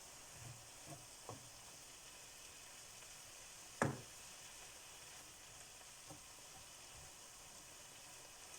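Onions cooking in a pan for beef samosas give a faint, steady sizzle, with a few soft clicks and one brief sharp knock near the middle.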